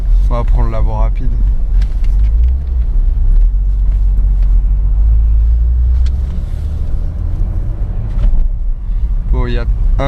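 A BMW Z3 M Coupé with its 3.2-litre engine gives a deep, continuous low rumble on the road, running under French conversation from people inside the car.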